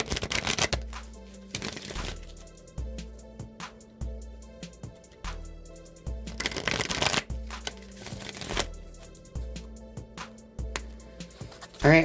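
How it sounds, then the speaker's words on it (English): An oracle card deck being shuffled by hand, with repeated riffling bursts and soft card slaps in several rounds and steady pauses between them, close and clear with no talking. "I'm going to go ahead and shuffle the wisdom of the Oracle deck now"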